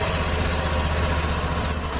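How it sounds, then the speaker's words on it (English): A Suzuki Access 125 BS6 scooter from 2020, special edition, with a slightly altered exhaust idles close by, giving a steady, even low putter and hum with no revving and no voices. "Let's hear the exhaust note of this vehicle."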